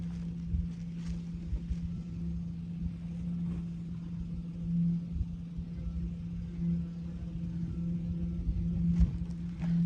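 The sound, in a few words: Subaru truck driving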